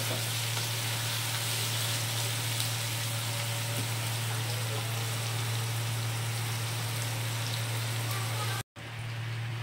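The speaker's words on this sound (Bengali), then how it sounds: "এবার এগুলোকে আমি ভালো করে ভেজে নেব" Ingredients for khichuri fry in hot oil, giving a steady, dense sizzle that runs unbroken and close for nearly ten seconds before a sudden brief cutout near the end, with a low steady hum underneath.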